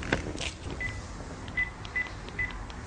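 Telephone being dialed, four short clear keypad tones spaced about half a second apart over a faint noisy background, with a couple of soft handling clicks at the start and no talk.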